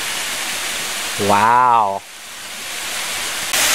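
A waterfall in a forest pours out a steady, broadband rush of flowing water that runs through the whole stretch, while a person briefly exclaims over it near the middle.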